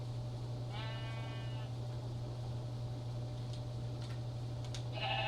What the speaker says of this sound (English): Okay, sheep, quiet.